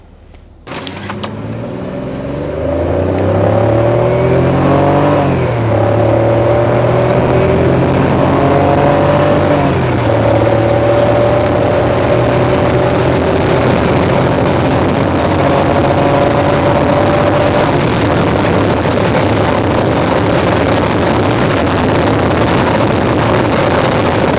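A BMW E38 750iL V12 sedan engine roars up through several gears, pitch climbing and dropping with each shift, then holds a loud sustained high-speed drone.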